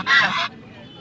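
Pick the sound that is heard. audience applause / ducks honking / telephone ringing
ducks honking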